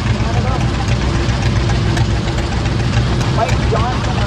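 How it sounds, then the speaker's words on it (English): A restored 1947 Coxsackie model 30 tractor idles in a parade, its engine producing a close, loud, even low-pitched chugging rumble without pause, with a voice faintly present in the background. "Mike Johnson on a real nicely restored 1947 Coxsackie model of 30."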